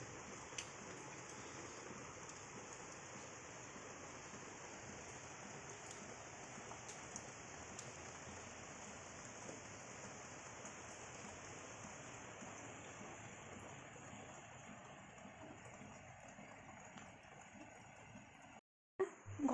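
Steady rain falling all day outside a home, a continuous even hiss with soft pattering that runs unbroken and moderately distant before cutting off near the end.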